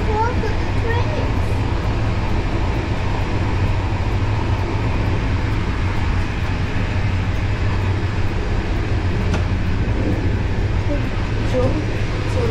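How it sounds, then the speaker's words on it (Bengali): A fast-moving train travelling from Poland to Slovenia gives a loud, steady rumble and rushing roar heard from on board, continuous throughout, while voices speak faintly in the background. "জোর চলছে ট্রেনটা।"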